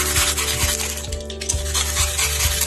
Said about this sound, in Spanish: para darle la forma con el cúter, vamos a ir cortando así